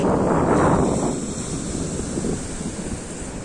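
Sea waves and wind on Mullaitivu beach, a loud roaring surge of surf that eases into a steady rushing hiss with gusty wind buffeting close by.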